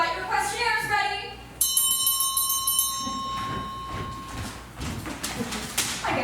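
A ringing bell signals the table rotation at a speed dating event, one clear sustained ring that fades over about three seconds while voices talk before and after it.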